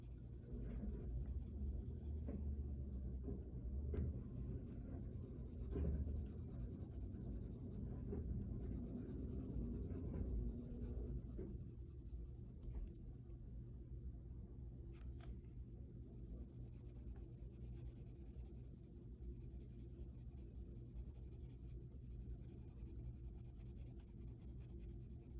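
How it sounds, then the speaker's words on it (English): A pencil shading across paper with the side of its lead, adding a warm gray tone to a drawing; a soft, steady, close scratching rasp that goes on continuously over a low background hum. "And then I'm just kind of extending it out, still only using the side of the pencil."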